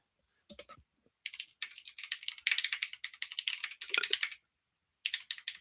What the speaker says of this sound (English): Y'all got sound and everything with my clackety-clack keyboard.